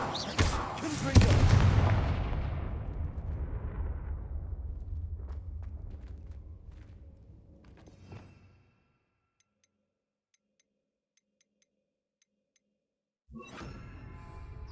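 A Confringo fire spell from Hogwarts Legacy bursts with a loud, booming blast that rumbles and fades over several seconds, followed by silence and then a faint return of game sound.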